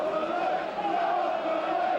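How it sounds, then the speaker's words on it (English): Football crowd at Burnley's home ground during a 2006 league match against Southend United, a steady roar of cheering and chanting voices filling the stadium, continuous and fairly loud throughout. "The crowd getting behind the lads"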